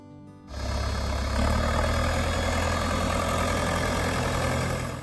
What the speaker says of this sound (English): Ford 5000.